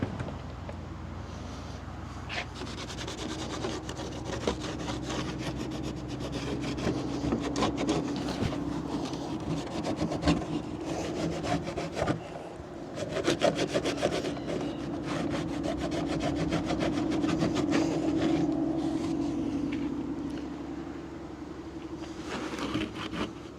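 A stiff brush scrubs grime off a part of a 1983 Kenworth K100 truck, producing continuous rough back-and-forth rubbing strokes, close and steady, with brief pauses.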